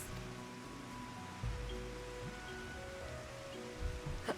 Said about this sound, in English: Imagine making Leopard sprint in a downpour